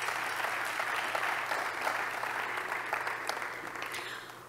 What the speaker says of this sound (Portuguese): eu peço também uma salva de palmas e libras